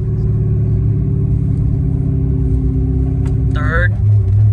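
A Corvette engine drones at high, steady revs in third gear, then drops away as a voice briefly speaks over the rumble.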